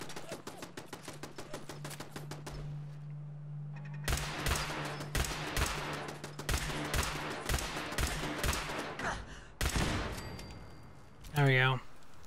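In Fallout 4 a pistol fires again and again at a turret, rapid sharp shots in fast bursts with a steady hum under the early ones, while a voice talks and a short sweeping electronic tone sounds near the end.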